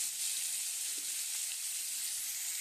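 Dried loitta fish frying in a pan with oil, turmeric, chili powder and salt, giving a steady, even sizzle close by with no talking.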